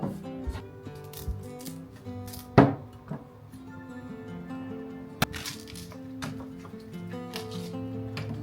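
A sharp crunching crack as a kitchen knife cuts through a bamboo shoot down the middle, followed later by a second sharp snap, close up over faint background noise.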